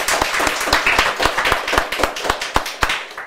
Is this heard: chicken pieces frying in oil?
no